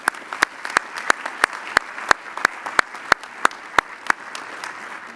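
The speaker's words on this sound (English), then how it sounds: "Let's give all the nominees a round of applause before we start." Applause for award nominees at a business ethics awards ceremony, with a light wash of clapping and distinct sharp claps near the microphone repeating in a quick, steady rhythm throughout.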